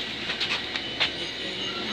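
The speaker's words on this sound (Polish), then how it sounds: "No także czekamy na tramwaj." A tram running nearby at a city stop, steady rolling rumble with a few light clacks and faint squeals, no voices.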